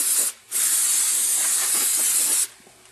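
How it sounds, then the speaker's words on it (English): Carburetor cleaner sprays in a loud, steady aerosol hiss onto a Toyota Matrix transmission, a short burst followed by a brief pause and then a long continuous spray that cuts off abruptly. "using some carburetor cleaner and paintbrush, we want to go ahead and clean this all up real good"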